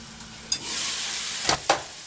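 Sirloin steak with onions, peppers and mushrooms sizzles steadily in a frying pan, a close continuous hiss with a few brief sharper crackles and stirring scrapes.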